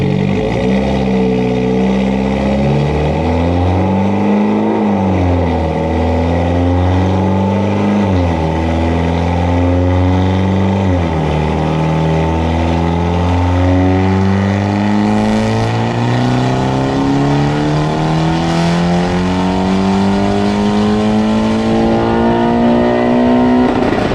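A Mitsubishi Evo X MR with a flex-fuel engine running on E85 revs hard on a dyno, its loud steady drone climbing in pitch through the gears with brief dips at each shift, no voices.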